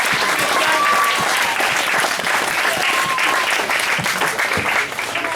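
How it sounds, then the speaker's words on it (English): Wedding guests clap steadily at a groom's speech, a dense, close burst of applause with a few faint murmurs that carries on for about five seconds. "We'll give Chunky a clap as well"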